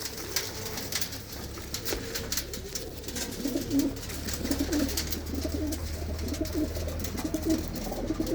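Pigeons kept for sale coo in a dense, overlapping chorus of soft rolling calls at a loft, steady and close throughout, with a low background hum and no talking.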